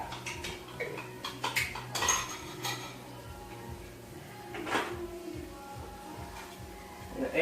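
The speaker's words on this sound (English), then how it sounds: "I'm going to mix that in, let that cook." A spoon stirs beef stock mixture in a pot, giving scattered scraping knocks and metallic clinks against the pot, close and fairly quiet, with a few louder taps and no talking.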